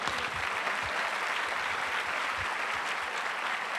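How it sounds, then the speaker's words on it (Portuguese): Congregation clapping inside a church during an evangelical sermon, a dense, steady roar of many hands that stays at an even level throughout, with no voice over it. "Aplauda o Senhor Jesus."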